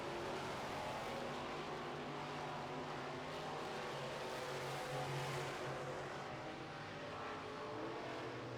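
Midwest Modifieds dirt-track race cars circling the oval during a heat race, a steady dense engine roar that swells and fades slightly as the pack passes, with no clear breaks.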